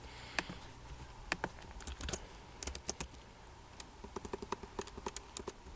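Keys clack on a computer keyboard as a web page's HTML is typed, in quiet, uneven bursts of sharp taps, faster toward the end, with no talking.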